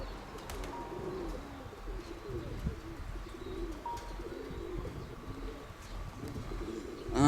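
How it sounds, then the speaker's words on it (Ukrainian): Pigeons coo softly and steadily at middle distance in an outdoor setting, with a faint chirp or two among them and brief flutters near the end. "Ай, голуби."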